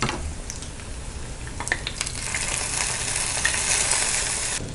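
Aval pasi paruppu payasam, made with flattened rice and moong dal and with the stove just switched off, is stirred in a pot. Close scraping strokes and soft clinks sit over a low, hissing bubble.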